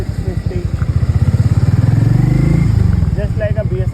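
A Harley-Davidson X440 single-cylinder motorcycle engine thumps steadily while riding, close and loud, its firing pulses rising in strength as it pulls under load.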